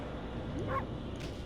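A dog's short yip-like bark in the video game Okami HD, a single brief call over a soft ambient game backdrop, near and clear with no talk.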